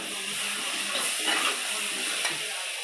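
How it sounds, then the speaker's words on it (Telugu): Ginger paste sizzles as it hits a hot pan of oil, a steady, fairly loud hiss and crackle with a few brief sharper pops, heard close without talk. "ఇప్పుడు అల్లం పేస్ట్ వేస్తున్నాను"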